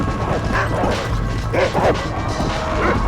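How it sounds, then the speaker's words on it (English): Zombie dogs in Red Dead Redemption: Undead Nightmare on Xbox 360, a few close, rough barks and yips amid game noise and clatter, with a voice talking over them. "Oh, there is zombie dogs."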